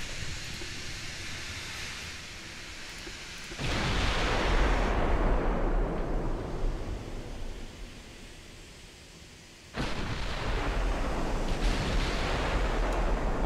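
Heavy WWII battleship guns in Ultimate Admiral Dreadnoughts fire in two deep booming salvos, each a sudden broad blast that rolls and decays slowly over several seconds above a constant low ocean rumble.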